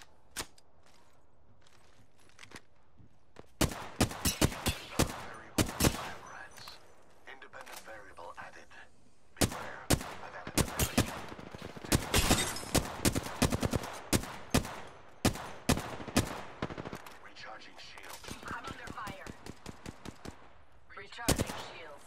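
Bursts of gunfire from the Apex Legends video game: rapid sharp shots in clustered volleys with short pauses, loud and close, running throughout.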